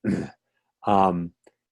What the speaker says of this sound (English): can we mute whoever that is that's coughing?